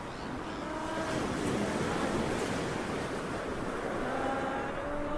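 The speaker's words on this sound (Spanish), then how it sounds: "el sonido de las olas golpeando las piedras antes de ser arena" Sea waves break against shoreline stones in a continuous, moderately loud wash of surf, with wind rushing through it and no voices.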